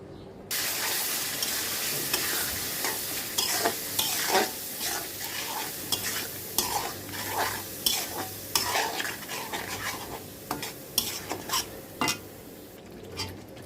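Spice paste for a Bengali mutton curry frying in hot oil with bay leaf, stirred steadily with a utensil scraping the pan, giving a continuous close sizzle broken by repeated scraping strokes and light clinks.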